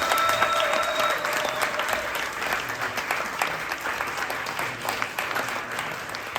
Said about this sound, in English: Please give our Rockstar panelists a huge round of applause